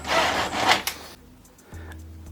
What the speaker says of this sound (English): Now we just wait for the printer to spit out a page.